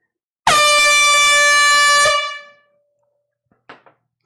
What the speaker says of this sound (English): Second air horn of the night.